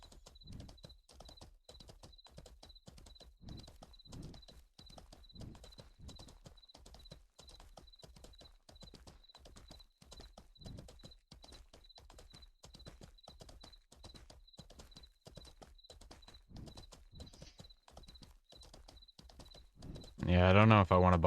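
A horse's hooves clip-clopping at a steady walking rhythm in the online game Mortal Online 2, even and fairly soft throughout, with a brief louder burst of sound at the very end.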